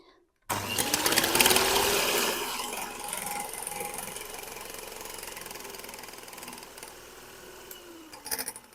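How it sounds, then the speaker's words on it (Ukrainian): An electric mixer whips egg whites with a pinch of salt for Japanese pancakes: a loud motor whir starts abruptly and settles into a steady buzzing drone, then ends with a few rattling knocks. "Далі білки, дрібка солі. Так. І починаємо збивати міксером."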